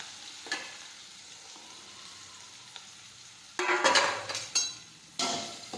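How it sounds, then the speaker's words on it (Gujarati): Mustard seeds, asafoetida and chopped onions hit hot oil for a Gujarati spring onion curry, giving a couple of loud, bright sizzling bursts that rise from a quiet kitchen background and fade between additions. "હવે આપણે તેમાં રાઈ નાખી દઈશું, હિંગ નાખીશું, સમારેલા કાંદા નાખીશું."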